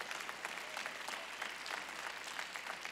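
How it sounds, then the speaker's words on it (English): A church congregation clapping their hands in praise, a dense sustained round of applause that holds steady and fairly distant, with no voices on top. "clap your hands and give God praise"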